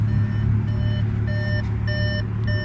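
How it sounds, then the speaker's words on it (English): A 2013 Audi S5, supercharged and APR tuned with an AWE exhaust, sounds its keys-inside warning: short, clear electronic beeps repeating in an irregular pattern over a steady low engine rumble. "That's just beeping, letting me know that the car or the keys are inside it."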